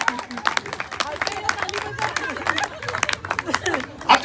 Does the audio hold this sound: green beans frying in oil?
no